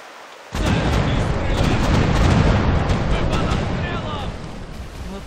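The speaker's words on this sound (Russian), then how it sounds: "Мы под обстрелом." A sudden loud roar of heavy ship cannon fire in the video game The Pirate: Caribbean Hunt bursts in and rumbles on continuously, booming and dense, fading slightly toward the end.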